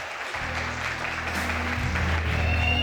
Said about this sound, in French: On l'applaudit bien fort, Léa, la candidate numéro 7.